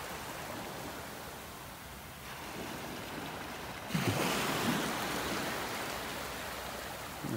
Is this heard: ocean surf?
yes